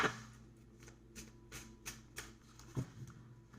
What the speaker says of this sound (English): I like to shuffle it once before I clarify